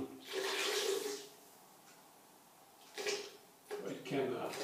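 Water pouring into eggplant chip batter made with olive oil, two splashy bursts of pouring with a quiet pause between, close by.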